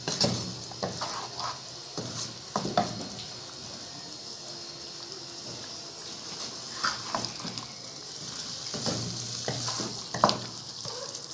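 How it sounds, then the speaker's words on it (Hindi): Potatoes fry with spices over a medium flame, giving a soft continuous sizzle broken by scattered stirring knocks and scrapes of a spoon against the pan, with no one talking. "हमने मीडियम फ्लेम पर इसको भूनना है मसाले के साथ।"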